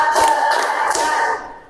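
A class of schoolchildren claps a short rhythmic pattern in a classroom, giving a few sharp, close bursts over a steady tonal hum that fades out at the end.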